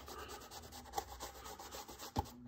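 Close, quiet scrubbing of a cloth working soap out of a suede Air Jordan 7 Bordeaux sneaker, a continuous rubbing texture broken by a couple of sharper knocks.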